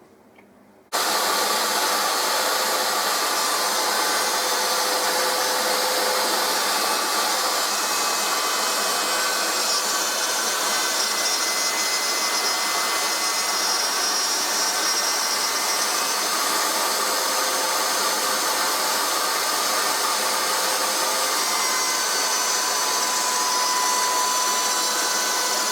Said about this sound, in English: So I will route that slot.